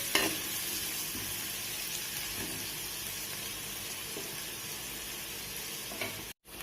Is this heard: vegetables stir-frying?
yes